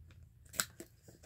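Paper being trimmed with scissors to round the corners of a small handmade envelope flap: a sharp snip, then a few softer cuts, close and fairly quiet.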